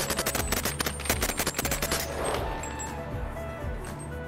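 Rapid automatic fire from a drum-fed gun in the VR game Bonelab, a fast dense rattle of shots for about two seconds that gives way to a sustained roar and ringing tail, loud and close.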